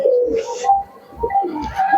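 Soft, throaty cooing from a Madras pigeon, a few rolling coos in a row, close and fairly clear with no talking.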